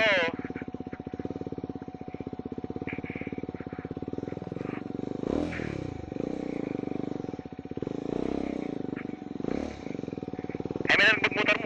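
A Triumph Scrambler 400X motorcycle runs along a mud trail, its engine droning steadily up close and swelling as it passes, with voices talking over much of it.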